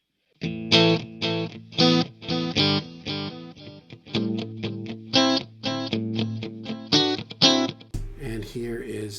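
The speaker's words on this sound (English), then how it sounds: "So here's the sound of that H90" An Eventide H90 delay in an amp's effects loop echoes a driven electric guitar phrase of rhythmic picked notes, repeats smearing between attacks, ending with a short burst of noisy sound.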